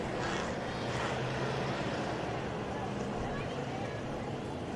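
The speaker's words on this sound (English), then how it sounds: "Hear him kind of revving it up going down the front straightaway." A sprint car engine at a Texas speedway roars and revs continuously down the front straightaway, a broad, steady racing drone with a voice talking over it.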